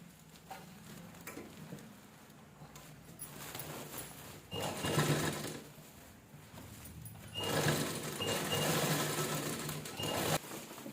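A sewing machine stitches old saree cloth into a shoe stand cover, running in quiet stretches with two louder, longer bursts of rapid whirring stitching.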